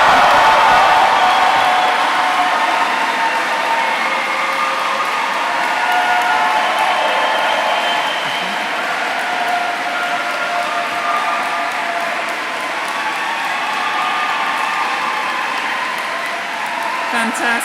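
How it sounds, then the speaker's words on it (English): A large graduation audience in Canterbury Cathedral claps, cheers and whoops, a dense, loud, sustained roar of applause that fills the hall and eases slightly toward the end. "So please, can you return the thanks? Clap, cheer, whoop, whistle"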